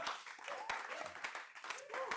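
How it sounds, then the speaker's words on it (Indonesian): Clapping from an audience at a Balinese performance gathering, a sparse patter of hands heard fairly faint in a short burst. "Oke, tepuk tangan lagi teman-teman"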